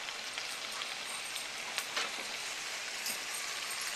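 Beet greens with their stems sweat down in a full pan, giving a steady soft sizzle and hiss with faint crackles, moderately quiet and unbroken throughout.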